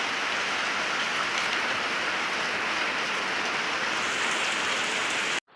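Heavy rain pours at a house in a continuous loud hiss of drops striking surfaces, unbroken for several seconds before cutting off abruptly at the end.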